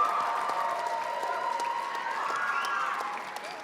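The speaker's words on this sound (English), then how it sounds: "Please give a round of applause." Steady applause and cheering from a graduation crowd, sustained and fairly even in level throughout with no voices standing out.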